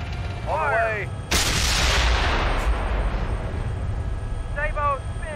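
A tank main gun fires in the Steel Beasts Pro PE combat simulator, one loud boom with a long rumbling roll that fades slowly over a constant engine drone, with radio-style voices before and after the shot.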